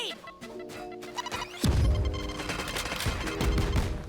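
A Raze grenade from the Valorant video game bursts with a sharp crash followed by a spray of rapid popping cluster blasts, loud and close over game background sound.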